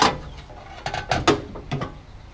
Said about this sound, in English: take out these two Phillips head screws down here for the license plate light